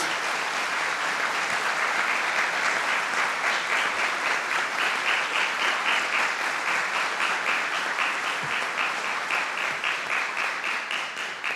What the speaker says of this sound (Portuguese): a quem peço uma salva de palmas pelo seu papel no nosso país